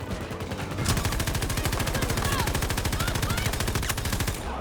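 Sustained rapid automatic gunfire in the shooter game Battlefield 2042, a dense steady rattle of shots running almost the whole time, loud and close, with scattered other game sounds behind it.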